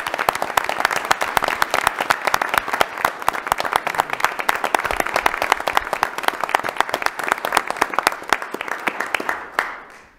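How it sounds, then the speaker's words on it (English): A large room at a city council meeting breaks into loud, dense applause for a girls' team, sustained and even for about nine seconds before tapering off quickly. "Let's give these girls a huge round of applause."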